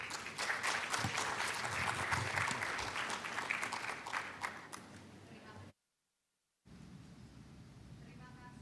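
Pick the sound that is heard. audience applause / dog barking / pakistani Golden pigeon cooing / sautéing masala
audience applause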